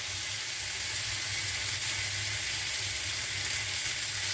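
Bata fish sizzles in hot spiced oil in a pan, a loud, continuous, even frying hiss with a faint low hum beneath and no talk.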